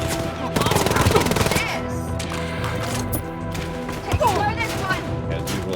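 Machine pistol gunfire in Wolfenstein: Youngblood, rapid automatic bursts loud up front, then scattered shots and mechanical clatter over game music and effects.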